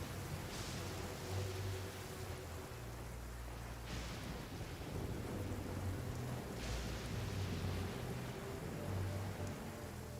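Steady rain falls in Genshin Impact, a continuous close hiss with low rumbles of thunder rolling underneath at intervals, and no one speaks.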